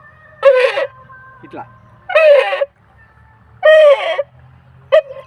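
A homemade farm noisemaker for scaring birds gives three loud, rasping squawks as its wetted string is pulled, each lasting about half a second with pauses between. A short spoken word comes near the end.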